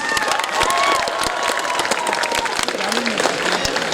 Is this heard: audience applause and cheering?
yes